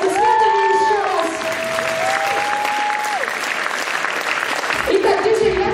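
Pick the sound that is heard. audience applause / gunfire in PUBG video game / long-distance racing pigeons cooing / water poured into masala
audience applause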